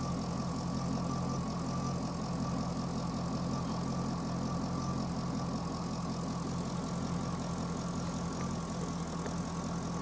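A Chevrolet Corvette engine idles steadily, a continuous low mechanical hum with a faint ticking texture holding at an even level throughout, no voices.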